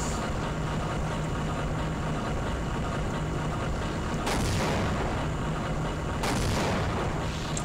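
Explosions in the Half-Life video game, two sharp booming blasts a couple of seconds apart standing out over a constant loud rumbling background, with no voices.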